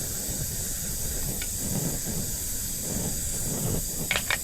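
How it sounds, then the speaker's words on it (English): Butter sizzles in a hot pan on a camp stove, a steady broad hiss that holds throughout with a low rumble beneath and a couple of faint clinks near the end. "Some butter in the pan."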